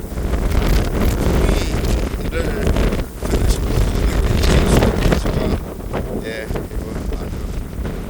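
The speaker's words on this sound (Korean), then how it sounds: "상당한 바람이 불고 있습니다." Strong wind blows on the Jeju coast by the sea, a loud, steady roar buffeting the microphone for the whole stretch, with small gusty swells and a brief dip partway through.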